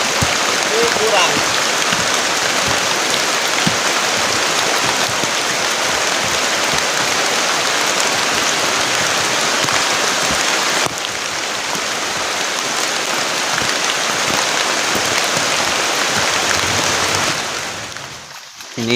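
Heavy rain pouring onto a tent in the forest during a stormy camping night, a dense, loud, continuous hiss of drops that eases slightly partway through and fades near the end.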